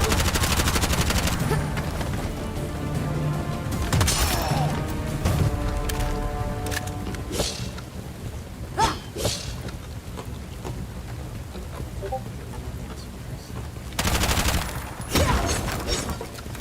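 Gunfire in Bright Memory Infinite comes in loud rapid bursts at the start and again near the end, with scattered single shots and game effects in between.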